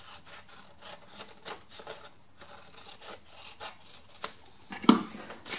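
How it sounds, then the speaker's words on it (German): A piece is cut away while preparing a tip packaging, heard as soft, close rubbing and rasping strokes with a few sharper snips near the end, quiet and without talk. "dafür schneide ich das Teil jetzt hier weg"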